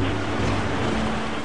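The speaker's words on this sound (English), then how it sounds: "The tsunami hits hundreds of miles of coastline with incredible fury." Tsunami waves striking a coastline, a dense, continuous roaring wash of water with heavy low rumble, loud and unbroken throughout.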